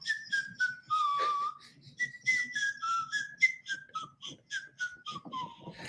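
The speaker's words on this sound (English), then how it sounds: "she needed me to record Jingle Bells. Whistling it?" A person whistles the melody of Jingle Bells, a series of clear, short pitched notes in a bouncing rhythm with brief breaths between phrases, close and alone.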